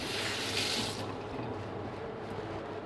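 Tap water runs hard and splashes as a prawn is rinsed under it, loud and close, with a brief brighter gush near the start before settling into a steady flow.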